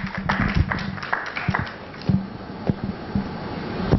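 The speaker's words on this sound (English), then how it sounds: "Can we give him a round of applause, please?" Audience applause at a business conference in Nigeria, a scattered patter of claps rising and falling unevenly, fairly sparse and moderately close, with no talk over it.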